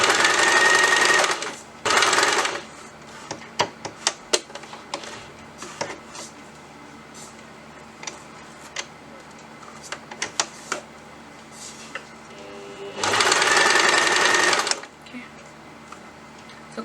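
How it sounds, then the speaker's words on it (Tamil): A sewing machine stitches fabric for tulip sleeves in bursts: a long run at the start, a short one just after, then a long gap of quiet handling clicks before another steady run near the end, with a voice talking between the runs. "ஸோ கொஞ்சம் கொஞ்சமாக துணியை வச்சு தைங்க"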